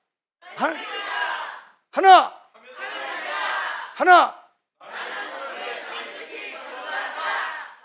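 Korean church congregation shouting a short chant in unison: several loud, full-voiced bursts of many voices together, separated by brief pauses, with a longer collective shout at the end.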